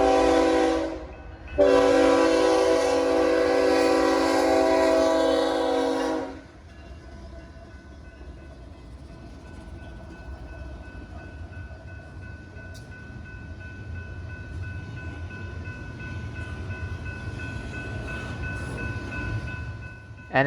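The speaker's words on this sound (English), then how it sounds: "an unexpected northbound intermodal train was rolling into the city" A northbound intermodal freight train led by three General Electric locomotives sounds a loud, sustained horn blast, then rumbles steadily past at moderate distance.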